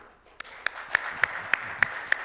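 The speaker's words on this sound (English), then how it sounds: "Let's have a nice big round of applause for all our award winners" Audience applause at a Marketing 2.0 Conference award ceremony in Dubai: a soft, steady wash of crowd clapping with sharper individual claps standing out at regular intervals.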